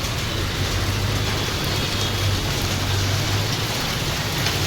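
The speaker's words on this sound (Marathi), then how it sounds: "पाऊस बघा किती खूप लागतोय" Heavy rain pours down steadily in a dense, unbroken hiss, with a low rumble underneath and no voices.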